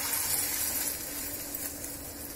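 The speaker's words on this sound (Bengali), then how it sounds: "এবার বড়াগুলো ছাড়বো, আমি চামচে করে ছাড়ছি" Lentil fritters (bora), dropped by spoon into hot oil, fry with a steady, dense sizzle that stays even throughout, with no voices over it.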